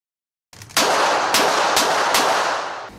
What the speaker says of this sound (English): Going to shoot a 22, which is nice and small.